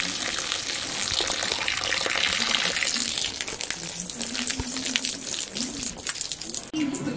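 Water from a hose pipe gushing and splashing onto plants on a hot, dry day, a steady hiss of spray with shifting splashes, a voice speaking faintly beneath it.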